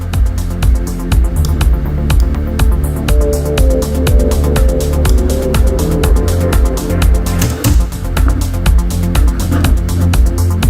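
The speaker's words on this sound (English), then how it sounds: "I'm going to use the delay designer with the default preset" Loud electronic music with a pulsing beat and repeating notes that echo and trail after each hit from a delay effect on its default preset, giving a spacious delayed feel.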